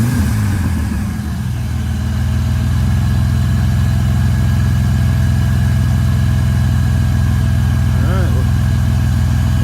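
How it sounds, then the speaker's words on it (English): A GMC Sonoma pickup engine idles steadily with a low, smooth continuous rumble, close by and loud, with a brief higher tone near the end. "But she's idling nice and smooth."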